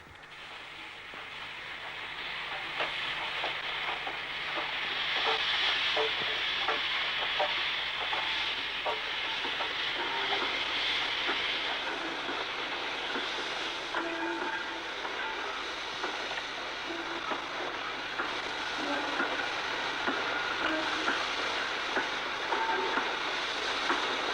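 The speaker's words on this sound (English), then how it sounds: "Here Q6 63435 of Hartlepool Shed eases down the curved gradient under the A19 road bridge before running into Newport Yards" Q6 steam locomotive 63435 of Hartlepool Shed eases a train down a curved gradient under a road bridge toward Newport Yards, a long steady rumble with hiss and rhythmic wheel clicks, moderately distant and unbroken by speech.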